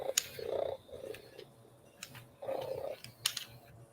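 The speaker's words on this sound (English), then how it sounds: "I'll give you can hear it, it's purring." A robotic toy cat purrs, a soft, low purr rising and falling in a few slow swells, with faint mechanical clicks and ticks in between, quiet and close.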